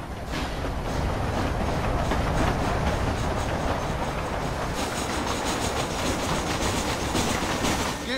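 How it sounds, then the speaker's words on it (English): A steam-era passenger train in the Red Dead Redemption video game rolls steadily along the rails, with a loud continuous rumble, rhythmic clickety-clack of the wheels and a faint metallic squeal, heard alone throughout. "So is that my fast travel, this train?"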